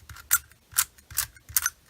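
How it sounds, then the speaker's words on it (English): A modded twisty puzzle cube with an annoying clicking mechanism being turned, four crisp, close ratcheting clicks at an even rhythm about half a second apart, each a sharp snap with a slight scrape. "that clicking mechanism gets really annoying"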